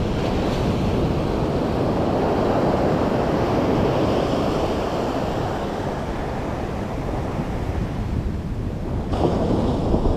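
Ocean surf breaking along a beach, a continuous loud wash of rolling waves with wind buffeting the microphone.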